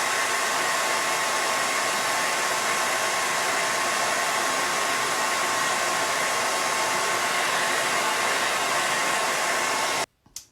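A hair dryer blows on painted pink flowers in a craft painting session. It gives a loud, steady, close whoosh for about ten seconds, then cuts off abruptly, with a brief click near the end.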